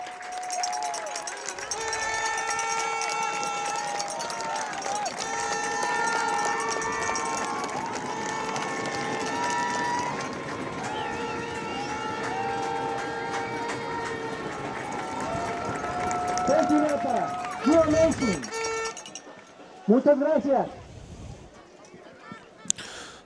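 A crowd of over 2,000 on its feet at a Club America vs Napa 1839 FC soccer match keeps up a steady, loud roar with tonal calls and chants, then thins near the end to scattered shouts.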